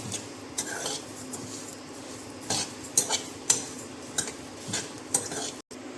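Whole spices dry-roast in a kadhai for garam masala, stirred with a metal spoon in steady scraping passes, with clinks against the pan and a faint rustle of seeds, close and without talk.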